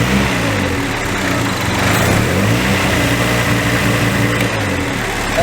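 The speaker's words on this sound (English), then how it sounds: "If I cover this, it revs up and then back down." A car engine with a vacuum line being covered and uncovered by hand, its note rising as the line is blocked and falling back again, loud and close throughout without any talking.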